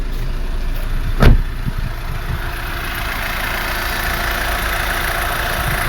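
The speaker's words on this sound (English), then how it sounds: "Engine is running." A 2013 BMW X1 with a power steering fault idles with a steady, even engine hum, broken once early by a sharp click or knock nearby, and no one speaks.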